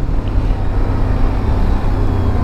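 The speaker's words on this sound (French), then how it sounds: "Le son de ce moteur-là." A steady, close CFMoto CForce 1000 Overland ATV engine drone with a low throbbing rumble, running continuously at an even idle-like pace without change.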